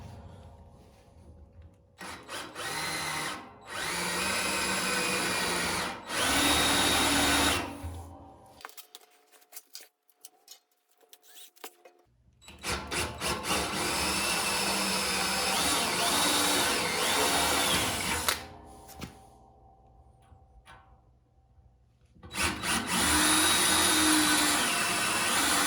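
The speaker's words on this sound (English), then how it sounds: "I'll probably drill it with my cobalt bits." Cobalt drill bits bore holes for a John Deere 54-inch quick hitch blade extension kit, loud sustained drilling in several long bursts separated by brief quiet pauses.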